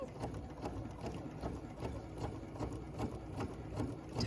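Sewing machine running steadily while stitching a 1930s sampler quilt block, a Grandmother's Fan design, with a continuous close mechanical whir and rapid needle ticking throughout.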